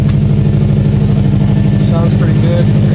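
A 2017 Subaru STI engine running after a restart, a loud, steady, rhythmic idle pulsing close by throughout, with no talk over it.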